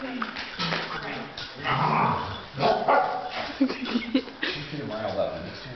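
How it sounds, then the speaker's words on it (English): Dogs bark, yip and growl playfully nearby in bursts, while a person talks over the commotion. "The dogs are playing."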